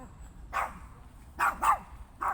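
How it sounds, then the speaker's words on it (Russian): A small dog on a walk in a park gives a few sharp barks, one single then a quick pair and another, fairly near against quiet background. "Собачка гуляет. Не надо гавкать."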